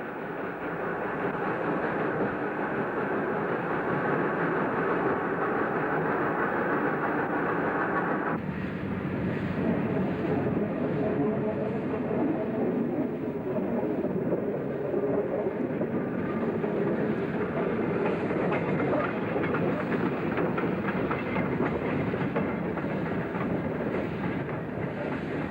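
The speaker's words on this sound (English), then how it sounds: "A vigorous start was made from Ambarawa's old station, our train consisting of the locomotive and an old inspection saloon." Wood-fired steam locomotive hauling an old inspection saloon from Ambarawa's old station, a steady heavy rumble and rolling clatter that continues throughout, with a change in tone partway through.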